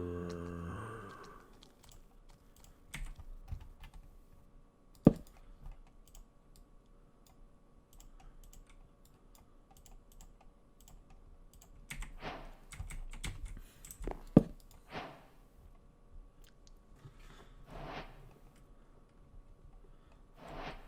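Faint, sparse keyboard typing in a quiet room: scattered key clicks with a few sharper, louder taps spread across the stretch.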